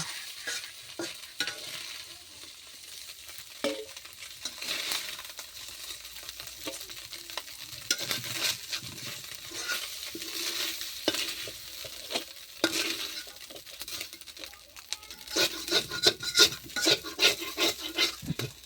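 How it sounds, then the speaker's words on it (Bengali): Fried puti fish stirred and lifted out of a hot pan, continuous oily sizzle with repeated scraping and clinking of a spatula against the metal, growing busier toward the end. "মাছ ভাজা হয়ে গেছে অলরেডি। তো মাছগুলো এখন তুলে নেব।"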